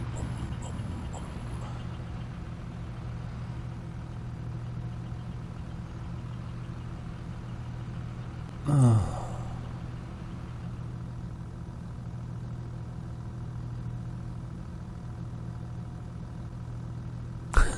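Car passing in Farming Simulator 22 on the Pioneer map, a steady low engine hum running throughout with one brief louder whoosh of the vehicle going by midway.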